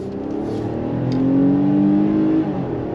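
A 2024 Infiniti QX60 luxury SUV with a 9-speed transmission pulls hard under throttle, its engine droning loud and steady with a rising tone as it accelerates, heard from inside the cabin.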